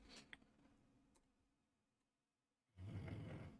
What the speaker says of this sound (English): My dog is snoring so loud.